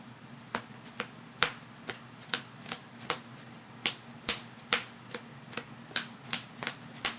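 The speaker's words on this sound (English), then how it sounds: "I'm going to power shuffle as well." Power shuffling a Yu-Gi-Oh card deck, heard as a quick run of sharp card slaps and riffles repeating roughly every half second, close and fairly quiet, with no talking.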